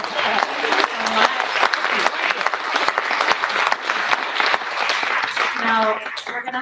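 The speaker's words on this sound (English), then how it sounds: "Can we get a huge round of applause for Kevin and Chris?" An audience at a musical theatre talk breaks into sustained applause, loud dense clapping close by with a few voices calling out over it toward the end.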